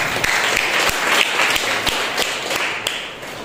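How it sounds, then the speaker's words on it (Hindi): A church congregation gives a sustained round of applause, dense and steady at close range with sharp individual claps throughout. "आइए हम उस पवित्र परमेश्वर के लिए जोरदार तालियां बजाएंगे।"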